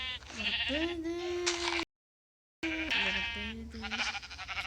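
Blocky Minecraft sheep bleat repeatedly in wavering, nasal calls, fairly close and clear, with a brief silent gap midway and faint game sounds behind.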